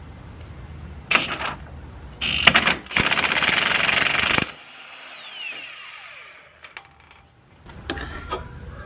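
Impact wrench working on a tie rod nut during an inner tie rod replacement, with short bursts of loud, close rattling hammering, a longer sustained burst in the middle, and metallic clanks in between.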